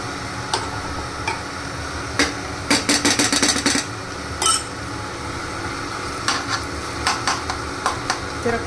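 Chutney frying in hot oil in a home kitchen, a continuous sizzle broken by sharp spoon taps and a quick burst of rapid clicks against the pan, close and fairly loud, no talk.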